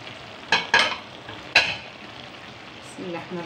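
Shawarma being stirred and fried in a pan: a few sharp scraping clatters of the utensil against the pan over a soft continuous sizzle, with a faint voice-like murmur at the end.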